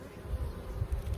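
Honey bees hum around an open hive during a farm hive inspection, a faint low buzzing that swells and fades in soft pulses.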